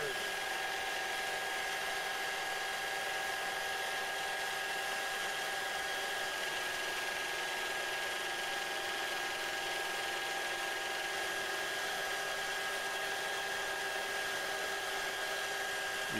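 A lathe runs steadily under applied pressure during a lubricant friction test with heated oil. It gives off a constant, dense mechanical whir with sustained tonal whines, even in loudness throughout.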